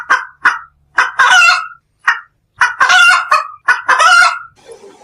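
A cartoon duck quacks in a series of loud, nasal honking calls, some short and single, others in longer rapid bursts, with brief pauses between them and no talking.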